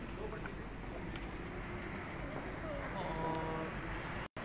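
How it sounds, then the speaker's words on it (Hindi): Ustad Riaz Butt's low-flyer pigeons coo softly at a distance in an outdoor setting, low murmuring calls under steady background noise with faint traffic, ending in a brief dropout. "ये भट्ट साहब के उड़ने वाले कबूतर हैं"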